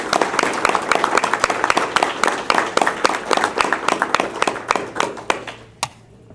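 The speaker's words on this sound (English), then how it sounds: "if we can have a big round of applause for our top 10 students" Applause from a modest crowd at a school board meeting honoring top students, individual claps audible, steady and fairly close, thinning out and ending with a final clap.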